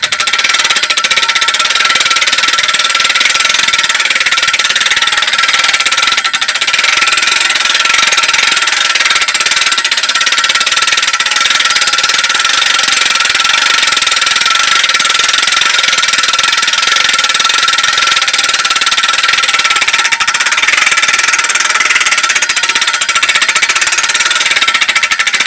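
A hand crank raises a crank-up ham radio tower at an old Kansas house, making a continuous, rapid, harsh rattling that stays loud and close for the whole stretch, with no voices over it.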